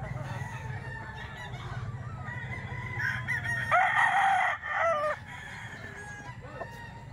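A Sweater Gilmore gamecock crows loudly and close at a rainy rooster sale in Bukawi, one long strained call standing out over low clucking and a faint mechanical hum from nearby.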